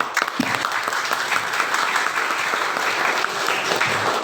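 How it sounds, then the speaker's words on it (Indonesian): At a high school student council candidate debate, an audience gives steady, sustained applause with many overlapping claps filling the room, heard on its own. "Berikan tepuk tangan sekali lagi untuk kedua pasangan."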